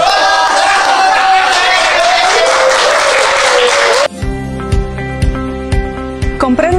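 A studio audience breaks into loud, dense applause for about four seconds before it cuts off abruptly to quieter scattered sounds.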